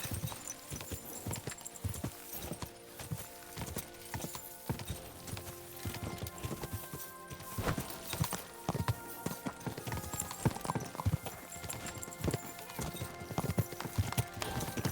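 A horse gallops in Kingdom Come: Deliverance II during a race, with rapid, steady clip-clopping hoofbeats close up and a brief whinny in the mix, continuous and moderately loud without speech.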